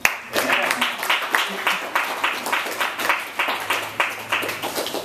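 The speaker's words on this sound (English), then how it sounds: "Everyone give a round of applause for the capitalist system." Audience at a reading event breaking into applause, rhythmic clapping from a small crowd that starts sharply and continues steadily with pulsing waves, fairly close, with some voices underneath.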